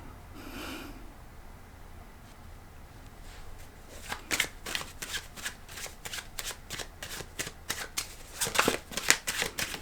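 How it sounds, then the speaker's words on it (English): Tarot cards being shuffled by hand at a reading, a soft rustle at first and then a rapid run of crisp riffling clicks, close and fairly quiet, without speech. "I'm gonna pull more cards"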